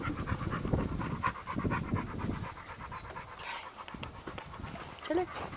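A 95 lb pitbull named Charlie pants in quick, steady rhythm close by, mixed with brief whimpers, while people talk over it throughout.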